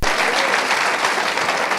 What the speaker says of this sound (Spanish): Si va a aplaudir al Señor, dele con toda su fuerza